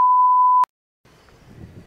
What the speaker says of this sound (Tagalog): kailangan ko talaga mag-alarm ng bongga para magising ako